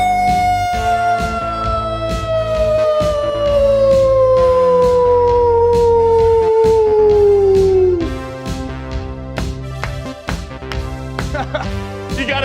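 A man imitates a wolf, holding one long, loud howl that slides slowly downward for about eight seconds over pounding music, then breaks off while the music keeps playing.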